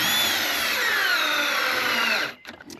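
A cordless drill with a nearly dead battery drives screws, whining close and loud in one sustained run whose pitch sags, then cuts off and gives way to a few faint knocks.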